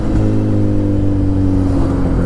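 A Kawasaki Z900 superbike engine runs loud and close with a steady, throaty mid-pitched drone, holding a sustained rev throughout with no voices.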